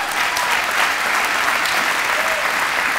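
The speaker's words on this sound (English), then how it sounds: "Let's give them a round of applause to start." An audience at an annual employee recognition celebration in Peoria applauds the Pride of Peoria Award recipients, with loud, sustained, dense clapping that continues without a break.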